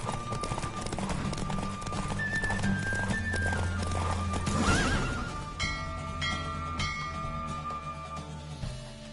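A horse gallops at speed with loud, steady clip-clop hoofbeats and repeated neighs and whinnies during a race in The Witcher 3, set against a busy game soundtrack with some voices.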